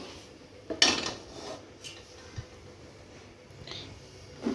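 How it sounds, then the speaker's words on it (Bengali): A washed metal cooking pot is set onto a gas stove with one clear clank, followed by a few faint knocks and light scrapes in a quiet kitchen. "পাতিলটাকে ধুয়ে পরিষ্কার করে নিয়েছি গ্যাসে চাপিয়ে দিব"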